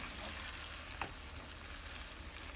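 Onion and Hatch peppers sizzle steadily in a pot of green chile stew, a soft continuous frying hiss with a brief stirring scrape partway through, fairly quiet and with no talking.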